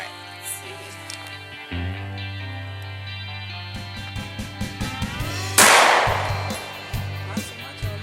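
Pistol shots from a Glock 43 and a Walther CCP firing 115 grain ball ammunition at a shooting range, several sharp cracks with one very loud blast standing out, plus clicks and handling noise between them.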